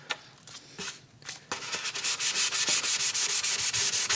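A wooden guitar rosette is hand sanded to remove orbital marks left by 320-grit sandpaper. A few tentative strokes give way to a steady, close, rhythmic back-and-forth rasp of about three strokes per second, with no talking.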